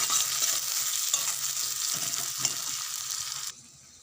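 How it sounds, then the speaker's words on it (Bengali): Chopped onion frying in oil in a wok, a steady close sizzle with stirring scrapes that stops abruptly near the end, leaving a quiet hum. "কুচিয়ে রাখা পেঁয়াজটা দিয়ে দিচ্ছি ভাজার জন্য, লাল লাল করে ভেজে নেব।"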